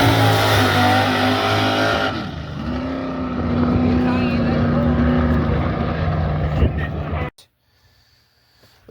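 A drag car launches down the track, its engine roaring loud and steady with rising revs for about seven seconds before cutting off abruptly into near silence.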